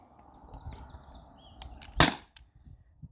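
A T4E air pistol fires a single shot over a chronograph: one sharp, close crack with a quick decay, set against quiet room ambience and no talking.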